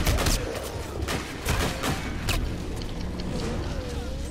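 Rapid bursts of gunfire from Call of Duty: Infinite Warfare zombies mode, sharp cracks clustered in the first half and again midway, with game noise and voices beneath.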